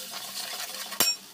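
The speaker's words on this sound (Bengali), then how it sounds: "এবার আমি ভেজে নেবো মশলাটা ভালো করে," Ground spice paste with turmeric and salt frying in oil over browned onions, stirred with a utensil: soft scraping strokes over a faint sizzle, then one sharp clink of metal on the pan near the end.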